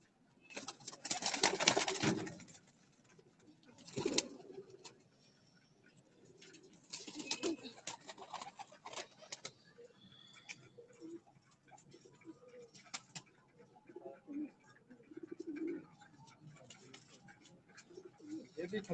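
Pigeons coo on a rooftop among pairs of fancy pigeons, soft repeated throaty calls rising and falling over a steady bed of outdoor ambience, with scattered ticking and some faint background talk.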